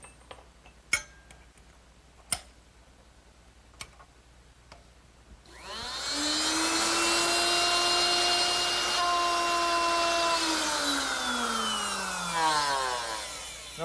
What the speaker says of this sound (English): now I can replace this straight cutter with the dovetail bit, and that should make it a lot easier to cut.